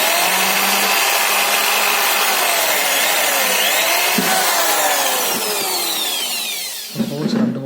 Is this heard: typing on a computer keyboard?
no